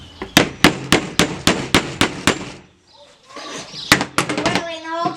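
A hammer strikes a nail into a DIY bird feeder, about ten sharp, evenly spaced knocks close by, then a pause, more taps and children's voices chattering.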